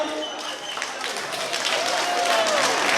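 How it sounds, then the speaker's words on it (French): Crowd applause for the runners-up at the Miss Ronde Martinique 2014 pageant, sustained clapping and cheering that builds slightly over three seconds. "encore des applaudissements pour les dauphines"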